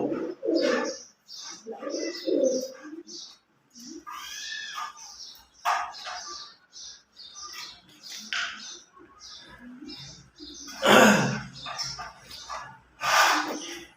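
Pigeons in a loft coo repeatedly, a chorus of close, bubbling calls rising and falling in overlapping bursts, with a few louder coos near the end and no talking.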